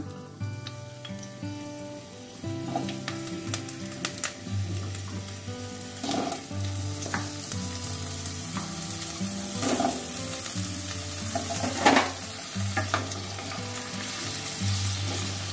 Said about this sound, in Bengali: এখন আলুটা ভেজে নেব। আলুটা দিয়ে দিলাম।